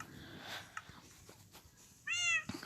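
A single short Minecraft cat meow rings out near the end, following a quiet stretch of soft rustling and faint clicks.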